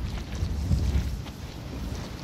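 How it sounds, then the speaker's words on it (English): Steady, dense wind noise from the Resident Evil 7 game environment rumbles low and constant, loud and unbroken, with no speech over it. "That's a windy noise."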